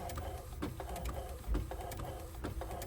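An Epson ET-8850 inkjet printer prints a page after its print head was unclogged, giving a quiet steady whir with regular mechanical clicks and ratcheting ticks of the carriage and paper feed, and no voices.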